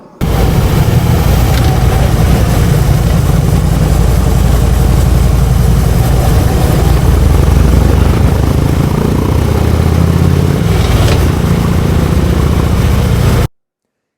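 A Harley-Davidson motorcycle engine idles with a steady, loud, deep low rumble, close by and continuous for about thirteen seconds before cutting off abruptly.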